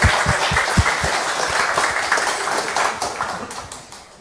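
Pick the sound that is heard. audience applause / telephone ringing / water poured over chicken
audience applause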